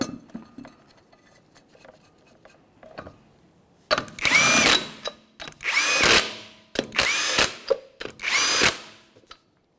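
A power tool whirs in four loud, steady bursts as it runs lug nuts onto the wheel of a 1994-1997 Honda Accord, after a few quieter clicks and clinks at the start.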